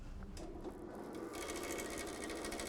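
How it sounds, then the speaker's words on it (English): Bandsaw running steadily in a woodworking shop, a continuous mechanical whir with rapid rhythmic rattling that grows louder and denser partway through, no talking. "Here we have a bandsaw."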